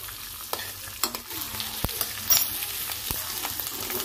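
Paneer cubes fry in a pan over high flame for chilli paneer, with a continuous crackling sizzle broken by scattered clicks and scrapes of a spatula stirring the pan up close.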